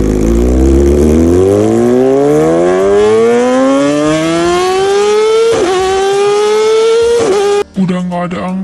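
A motorcycle engine in the mobile game Sakura School Simulator revs up in a long rising whine, pitch climbing steadily for several seconds before a brief drop and a rougher idle at the end.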